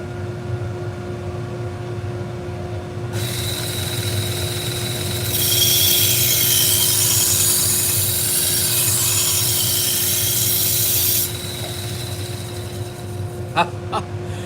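A knife, a Shun, is ground on a 120 grit belt sander, a rough steady hiss that rises and grows louder for several seconds over a motor hum, then cuts off, followed by a few light knocks.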